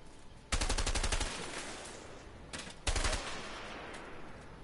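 Gunfire from the co-op action video game A Way Out comes in two loud rapid automatic bursts, each fading into a rattling tail, with no talking.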